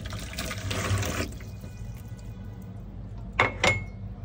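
Water poured into a clean basin, a steady liquid wash for the first second or so, then quieter trickles and two short splashy bursts near the end, close by with no talk.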